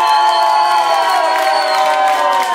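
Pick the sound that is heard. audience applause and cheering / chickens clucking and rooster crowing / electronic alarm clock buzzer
audience applause and cheering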